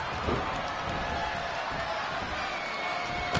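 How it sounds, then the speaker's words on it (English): Sustained, dense roar of an arena crowd cheering a women's wrestling match in the WWE 2K20 video game, steady and fairly loud throughout with a brief sharp accent near the end. "but the crowd is loving Sasha's act"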